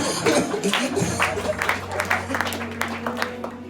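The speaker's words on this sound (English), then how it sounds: "Let us clap for him." A crowd claps and applauds steadily for a few seconds, dense and fairly loud, with faint voices mixed in.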